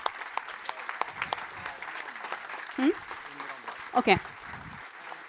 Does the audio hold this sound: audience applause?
yes